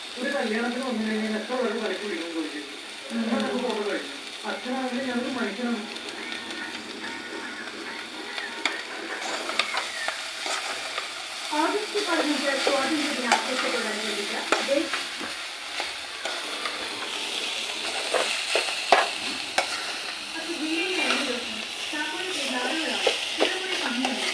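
A spoon stirs grated coconut into a curry sizzling in a pan, giving soft scraping and frying crackle throughout, with someone talking over much of it.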